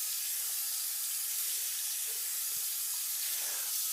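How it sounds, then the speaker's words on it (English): A bathroom faucet runs while hands are rinsed of soap under it, making a steady, close hiss of spraying water that holds at an even level throughout. "you want to rinse off the water, rinse off the soap and water"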